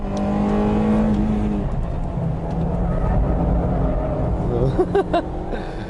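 A Honda Integra DC2 Type R with its VTEC engine revs hard on corner entry, the engine note rising and falling through gear changes close by, with a voice talking over it near the end.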